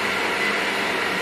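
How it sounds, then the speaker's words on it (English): A kitchen blender runs at full speed, a loud, steady, unbroken whir that fills the whole moment with no pauses or changes in pitch and no voices. "Nice blender."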